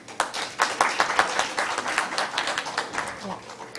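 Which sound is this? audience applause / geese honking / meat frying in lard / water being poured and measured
audience applause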